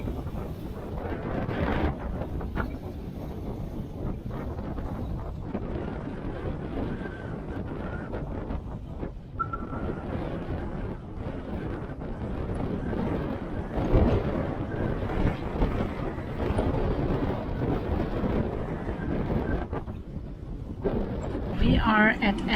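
Strong wind, about 20 knots, roars across a sailboat lying at anchor near a shore, a steady loud rumbling gust noise buffeting the microphone for the whole stretch with no break.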